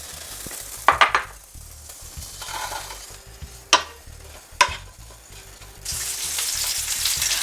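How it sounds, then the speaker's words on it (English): Chorizo frying in oil in a pan for Spanish paella, a steady sizzle with several sharp clanks and scrapes of a utensil against the pan and a louder burst of hissing near the end. "as the chorizo is cooking"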